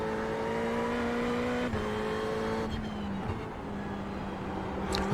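A Ferrari 488 GT3 racing at Laguna Seca in iRacing accelerates hard in first gear out of the corkscrew, its engine a steady, loud sustained drone with pitch shifts between gears, alone with no voices.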